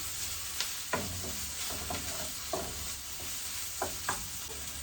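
Sliced onion frying in a pan for beef curry gives a steady soft sizzle throughout, with several light scraping stirs of a spoon against the pan, close and quiet, no talking.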